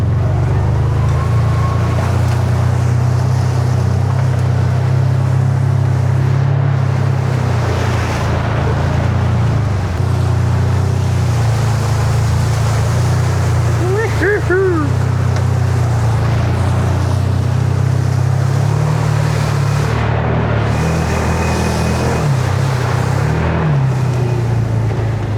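A Deuce and a Half military truck drives through water, a loud, continuous low engine drone with rushing water and wind noise throughout and no voices.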